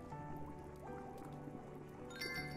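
Hot water poured for tea in the game Children of Silentown, a soft trickling fill with faint drips and gurgles against a quiet musical background, with no talking.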